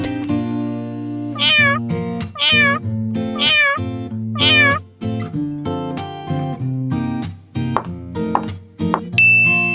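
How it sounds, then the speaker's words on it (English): A cat meows four times in a steady rhythm, close and clear, over a light musical backing with chimes. "Cat."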